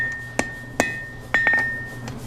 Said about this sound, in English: I'm going to bring it here to the horn of the anvil, and all I'm really doing is kind of shaping this.